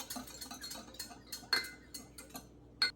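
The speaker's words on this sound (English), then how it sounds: "we're going to whisk that in while it's cold" Cornstarch whisked into cold water in a bowl, a quick run of light metallic ticks and clinks, faint and close, with a couple of sharper taps standing out.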